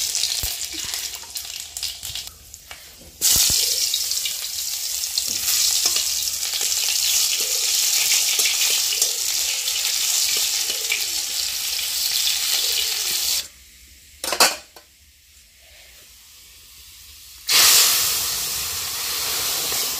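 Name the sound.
sizzle of tempering the dal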